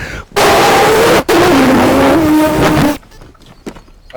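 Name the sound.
voice imitating car noises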